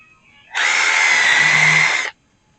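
A power drill drives a 2.5 inch screw into the wood of an Adirondack chair, one steady high whine of about a second and a half that starts and stops cleanly, close and loud with no talk.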